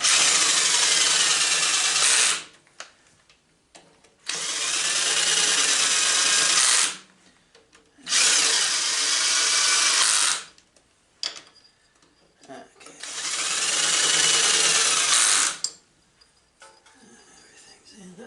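A power tool whirs loudly in four long bursts with short quiet gaps, running down bolts on a riding mower that burns oil.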